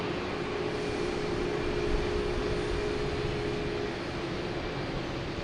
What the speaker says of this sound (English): We have an American Airlines taking off.